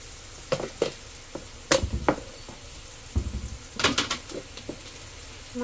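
Fish frying in a pan, with crackling sizzle and scattered sharp pops from hot oil, plus occasional stirring and scraping clatter over the steady hiss.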